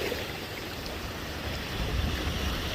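Waves roll in and draw back along the seashore at Tower Isle, a soft continuous wash of surf with a low rumble swelling toward the end, heard alone with light wind.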